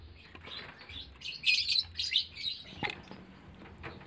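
Lovebirds in a cage chirp in short, high, scattered bursts close by, a few quick calls clustered in the middle with quiet rustling between.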